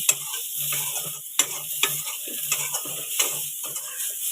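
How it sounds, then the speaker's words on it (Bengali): Cauliflower frying in a little oil sizzles up close while a utensil scrapes and stirs it in repeated rhythmic strokes, with sharp clacks against the pan. "দিলেই আমার ফুলকপিটা ভাজা হয়ে যাবে"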